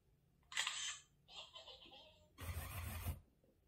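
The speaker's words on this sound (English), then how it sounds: "Hey, DOLY, take a photo" DOLY AI companion robot snapping a photo on voice command: a few short electronic shutter clicks and chirps in quick succession, ending in a louder full-band burst, close and clear with no talking.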